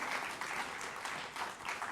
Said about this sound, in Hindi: तो एक बार फिर जोरदार तालियों से अभिनंदन करिए अनुराग ठाकुर जी का।